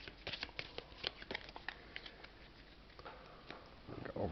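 Rapid papery riffling and soft card slaps as board game cards for Dead Cells: the Rogue-Lite Board Game are shuffled in a quiet room, repeated in short bursts with a few louder snaps near the end.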